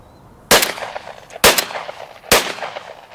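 Three loud shotgun blasts from an ATA Venza Fonex firing Gamebore Ultimate 20 loads with 28 grams of 5.5 shot, evenly spaced about a second apart, each a sharp crack with a short decaying tail over quiet outdoor background.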